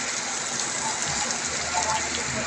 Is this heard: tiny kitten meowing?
no